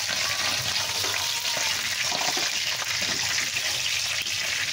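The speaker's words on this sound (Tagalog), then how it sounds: "tinakpan ko kasi siya kasi tumatalsik yung mantika niya" Oil spatters and sizzles steadily as adobo fries in a covered pan, a dense, even hiss held close and continuous throughout, with no talk.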